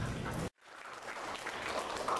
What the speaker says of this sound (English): When they're finished, we'll all politely clap and get ready for the next competitor.